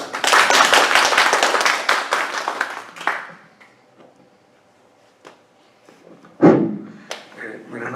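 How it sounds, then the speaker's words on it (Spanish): At an Independence Day commemoration, a small audience applauds as a history professor is introduced: dense clapping for about three seconds that thins out into scattered claps, a few isolated taps and knocks, then a brief voice. "Fuerte aplauso para él."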